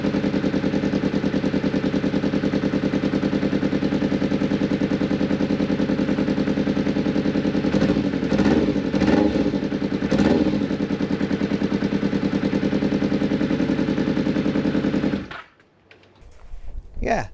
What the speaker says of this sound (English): the exhaust is blowing, but you can't hear any rattles, can you?